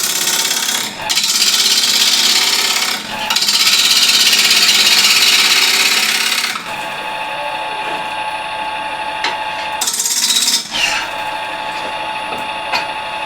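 A Harvey Turbo T-40 wood lathe spinning at about 1000 RPM, with loud rough scraping bursts as a tool rubs against the turning wood, alternating with the machine's steadier whine, close and without talk.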